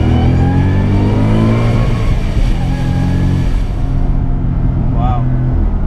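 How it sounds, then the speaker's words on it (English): A 2014 Ford Mustang GT Saleen SA30 accelerates, its engine loud and close with rising, revving tones that climb and shift through the clip. A low cabin rumble sits beneath it. "Just listen to the motor."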